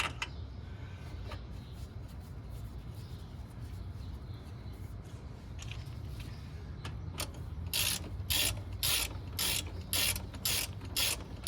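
A hand ratchet snugs the slide pin bolt during rear wheel installation on a Honda GL1500 Goldwing motorcycle, first soft, then a run of loud rapid clicking bursts near the end, close up with no talk.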